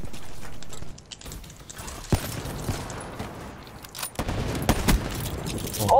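Gunfire in an online shooter game, bursts of rapid shots with a dense, rumbling background of game noise and impacts, moderately loud and continuous.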